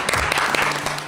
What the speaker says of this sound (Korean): 정말 축하드려요. 박수 주세요.